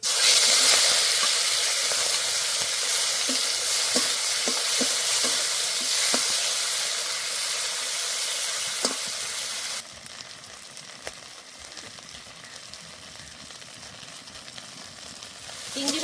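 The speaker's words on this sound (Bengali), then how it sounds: "এই তেলেই কিন্তু আমি চিংড়ি মাছগুলো ভেজে নেবো" Prawns fry in hot oil, a loud close hiss and sizzle with stirring clatter that drops noticeably to a quieter, thinner sizzle partway through, with no speech.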